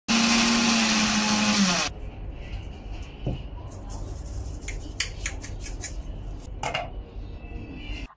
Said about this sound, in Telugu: ఇవి కూడా మిక్సీలో వేసేసుకుని ఆవ పిండిలాగా పొడి చేసేసుకుంటాము.